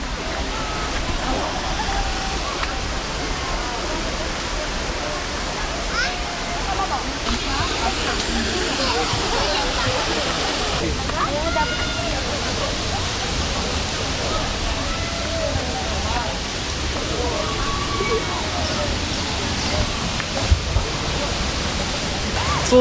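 Steady broadband rush of Cambugahay Falls in the Philippines fills the whole stretch, with faint crowd chatter mixed in beneath the constant roar.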